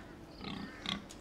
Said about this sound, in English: I like the pigs.